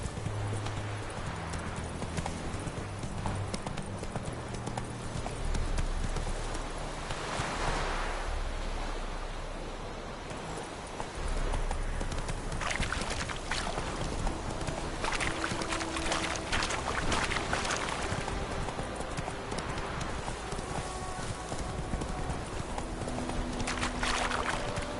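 Roach the horse gallops across open ground in The Witcher 3, a steady clip-clop of hooves running through most of the stretch, fairly close and loud over a bed of ambient noise with occasional faint game music.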